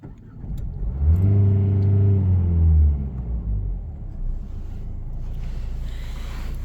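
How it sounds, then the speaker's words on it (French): A car engine cranks and starts with a loud low rumble and a brief rev, then settles into a steady idle close by. "laisse mettre le moteur en marche."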